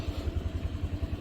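A motorcycle engine runs close by, chugging in a steady low pulsing rhythm like idling or slow riding, with no voices over it.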